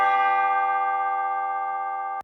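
A single sustained church bell tone rings out in a dark alt-R&B production, ringing loud and clear with a long, slowly decaying resonance before cutting off abruptly.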